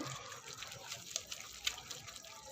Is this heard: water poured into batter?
yes